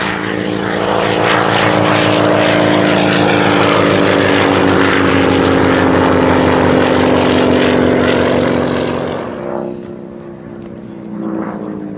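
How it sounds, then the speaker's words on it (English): A 1950s Percival Provost with a 9-cylinder Alvis Leonides radial engine at a Shuttleworth military pageant, a loud throbbing propeller drone passing close, then fading away into the distance. "sound of that Alvis Leonides"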